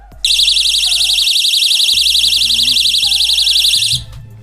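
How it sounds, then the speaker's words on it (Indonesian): An inexpensive door alarm blares a loud, rapidly warbling electronic siren for about four seconds after the door is opened, then cuts off abruptly. "apabila kita buka pintunya, alarm sudah aktif ya teman-teman"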